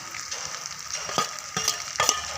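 Thin fried pumpkin slices being tossed into broiler chicken in a pan, a soft low sizzle with a few light stirring scrapes, fairly quiet and without talk.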